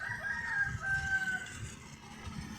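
A rooster on a farm crows once in a drawn-out call, fairly close and alone over a quiet rural background.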